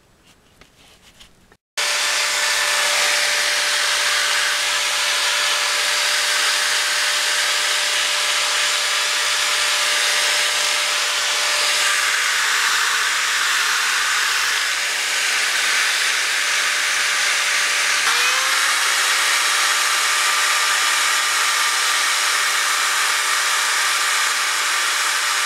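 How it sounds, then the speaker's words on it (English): A sanding mandrel on a high-pitched rotary power tool whines steadily and loudly for a long stretch while refinishing motorcycle wheels, a bright hissing grind with a slight pitch dip partway through. "this little sanding mandrel comes from Harbor Freight too, and this is great for getting in little tight areas"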